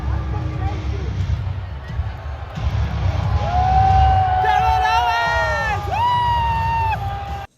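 A live crowd at a WWE Friday Night SmackDown wrestling show cheers and shouts steadily in a big arena, swelling into louder whoops and whistling cries midway, with a roar of many voices throughout that cuts off abruptly at the end.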